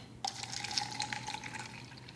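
Kangen Water at pH 9.5 pours steadily into a container for about two seconds, a close, trickling splash with a thin ringing tone underneath.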